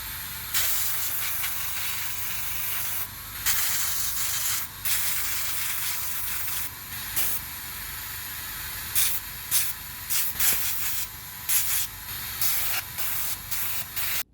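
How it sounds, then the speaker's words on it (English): Short bursts of aerosol spray coating the cockpit parts of a Nakajima B5N2 scale model kit, hissing on and off repeatedly at close range, with brief pauses between each pass and no talking. "before we can add the wash, we need to spray everything with some of this."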